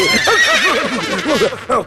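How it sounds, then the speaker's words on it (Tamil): In a Tamil film comedy scene, horses neigh: a loud, close, wavering whinny warbles for nearly two seconds, with a final short snort-like burst at the end. "குதிரைகளே கொந்தளித்து விட்டது"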